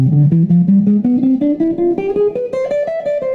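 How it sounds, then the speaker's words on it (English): An electric guitar plays a steady ascending scale in the Locrian double flat 7 mode of harmonic major, with evenly spaced clean single notes climbing in pitch, close and clear with no talking. "Now the next shape or mode is called Locrian double flat 7, and it sounds like this one."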